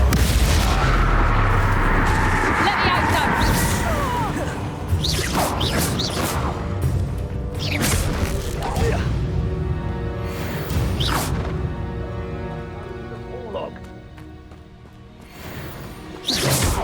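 Bombarda and Confringo spell explosions in Hogwarts Legacy on Nintendo Switch: loud booming blasts with whooshes and crashing debris, several bursts in quick succession over a rumbling game soundscape.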